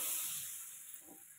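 Spices and asafoetida lightly frying in oil, a soft, steady hiss and faint sizzle that fades gently, close and quiet with no talking.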